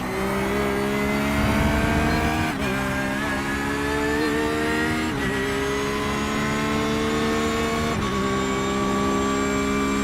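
A Mazda Miata race car runs at Road Atlanta during an IMSA event, its engine a loud, sustained, steady drone with rising whine and brief dips as it shifts gears, close and unbroken by speech.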